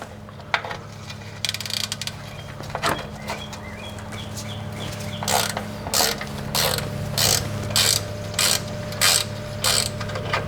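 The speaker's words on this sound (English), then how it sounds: "You're going to need a 14mm socket." A ratchet with a 14mm socket clicks in quick bursts while loosening the oil drain plug under a Nissan Xterra, close up. The bursts start sparse, then come as a steady run of repeated strokes over a low background hum.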